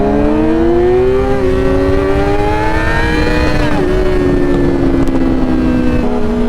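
Motorcycle engine, a Hayabusa or Yamaha R6, droning loud and close with a rising then falling whine as it accelerates past.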